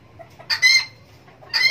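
A Serama bantam chicken gives two short, bright clucks about a second apart, close and fairly loud against a quiet background.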